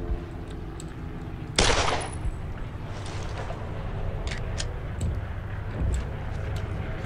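Gunfire in the World War II shooter Brothers in Arms: Road to Hill 30, a loud sudden burst standing out over a steady battlefield din, followed by scattered sharper cracks.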